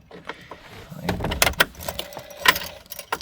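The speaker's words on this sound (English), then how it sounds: "power on, you'll hear some clicking from the tacho" Sharp mechanical clicks tick from a classic Mini van's tachometer as the power comes on, irregular and close, over a quiet background.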